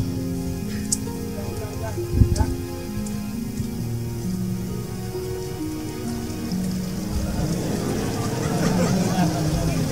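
Rain falling steadily as a continuous broadband wash, growing heavier toward the end, with a brief knock near the start and a low vehicle-like rumble underneath.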